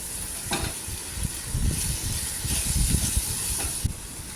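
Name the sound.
vegetables sautéing in a pan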